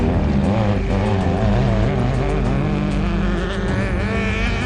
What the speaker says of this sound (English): It's a single-seater, lovely tuned vehicle, sounds absolutely stunning.